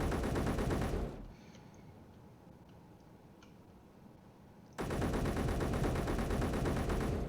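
Turret gunfire in Space Engineers, a dense rapid roar of automatic fire that cuts out for several seconds into a quieter hum with faint ticks, then resumes at full loudness.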